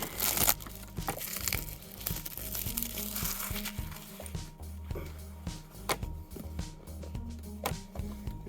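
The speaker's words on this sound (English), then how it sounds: "So let's break it out of the box and have a look." Tronsmart Splash 1 Bluetooth speaker packaging being unboxed, with close crinkling, tearing and rustling of cardboard and plastic plus scattered taps and clicks throughout, no talk.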